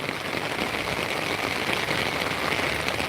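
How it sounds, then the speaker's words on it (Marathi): Heavy rain pours down in an unbroken, dense hiss of drops striking surfaces, close and loud, under a dark sky, with no voices. "पाऊस बघा चालू आहे"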